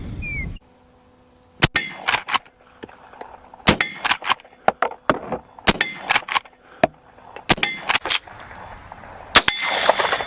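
Several sharp gunshots from an original 1860 Colt conversion revolver firing live ammunition, about five loud cracks spaced irregularly across the span with metallic clatter between them, and no talking.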